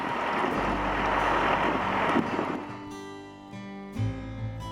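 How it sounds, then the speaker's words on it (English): Strong wind by a narrowboat on an industrial canal buffets the microphone with a rough, roaring rush that eases partway through, leaving a quieter background hum with occasional low thumps. "It's quite windy today."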